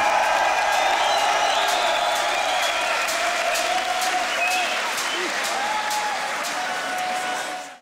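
Crowd applause with cheering and whoops at a beatbox battle, the Grand Beatbox Battle 2021 World League solo elimination, loud and sustained throughout before cutting off at the end.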